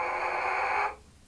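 A trumpet mouthpiece buzzed alone with a too-tight lip aperture gives a thin, pinched, steady tone lasting under a second before it cuts off abruptly.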